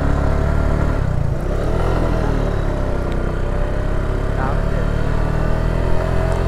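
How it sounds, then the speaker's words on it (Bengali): A motorcycle struggles through loose sand on Parki beach in Chattogram, its engine a loud, steady, close drone with shifting pitch as the rider fights for control. "বাইক এখানে ধরে রাখা অনেক কষ্ট।"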